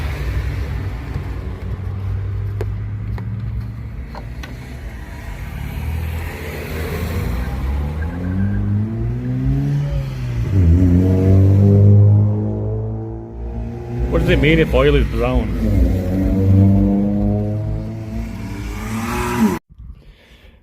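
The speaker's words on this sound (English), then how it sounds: "A whole posse of souped up cars just went past." Several modified cars drive past on a road, engines revving and rumbling as they approach and pass nearby, rising to loud, drawn-out roars before fading, while a person talks over the noise.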